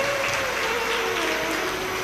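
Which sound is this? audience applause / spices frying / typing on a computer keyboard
audience applause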